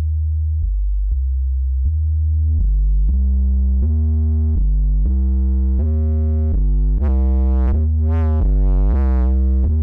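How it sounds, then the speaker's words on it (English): A pure, loud sine tone steps through low notes while a filter sweeps, gradually adding harsher, buzzy overtones and chirping sweeps toward the end. "Let's just throw a sine wave into it."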